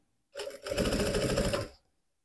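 A sewing machine stitches furry fabric for a teddy bear backpack in one short continuous run, starting with a brief burst and then a steady close whir before stopping.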